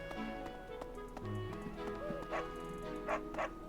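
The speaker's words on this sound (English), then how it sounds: "Woof woof." Cartoonish dog barks from a Fire Emblem: Three Houses game scene, a few short yips over steady background music.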